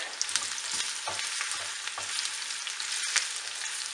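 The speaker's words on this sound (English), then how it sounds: "now I'm adding onions. I'm gonna fry them gently on this lard" Onions fry gently in melted lard with scratchings, giving a soft, steady sizzle and crackle with faint stirring scrapes, close by and with no talking.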